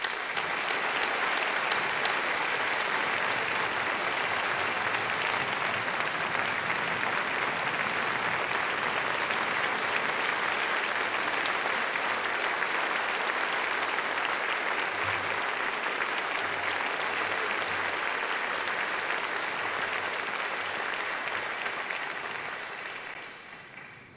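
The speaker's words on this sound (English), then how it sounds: "Can you give him a round of applause?" Sustained loud applause fills the hall at a Gospel Music Hall of Fame induction ceremony, steady clapping from a large audience continuing for over twenty seconds before tapering off at the end.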